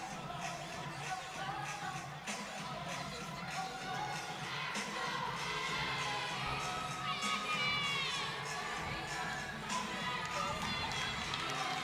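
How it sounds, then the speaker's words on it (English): Fans in the stands cheer on the Tigers at a college women's gymnastics meet, a steady crowd roar with shouts and scattered cheering, children's voices and faint chatter mixed in throughout. "Got some fans in the stands there cheering on the Tigers."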